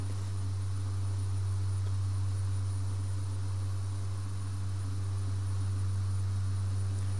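A light aircraft's engine drones steadily inside the cabin in flight between Shoreham and Bristol, a loud, constant low hum with a strong tonal note over airy rushing noise, unbroken throughout.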